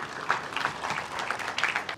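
Audience applause at a book launch event welcoming a former university vice-chancellor to speak, a short burst of many hands clapping at moderate distance with a few sharper claps standing out.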